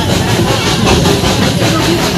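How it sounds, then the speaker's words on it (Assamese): Darjeeling steam toy train running along a street past houses, a steady close rumble and rattle of rail cars with engine noise throughout, fairly loud and continuous. "এয়া ট্ৰেইন ষ্টাৰ্ট দি দিলে আমি এতিয়া গৈ আছোঁ"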